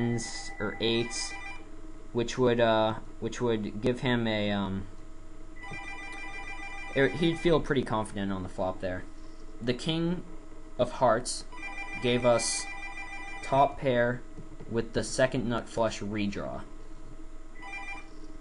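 A telephone rings repeatedly in the background during online poker commentary. Its bell sounds at a steady pace under continuous talking.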